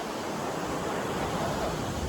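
Ocean surf washing onto a beach at night, a steady broadband roar of waves with no distinct breaks, moderately loud and continuous.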